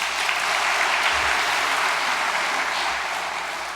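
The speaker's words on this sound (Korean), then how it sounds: "여러분 박수 한번 해주십시오." An audience claps together in a dense, sustained round of applause that holds steady for a few seconds before tapering slightly.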